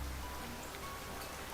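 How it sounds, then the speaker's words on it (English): Rain falls in the survival video game Niche as a quiet, steady, even hiss of drops, alone and without talk. "That's why I hate the rain sometimes."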